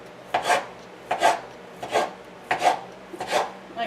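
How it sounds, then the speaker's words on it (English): A knife slicing kielbasa sausage diagonally on a board, five evenly spaced rasping strokes, each a short scrape ending in a soft tap, close and clear with no talk. "I kind of do it on a diagonal, but you can cut them any way you like."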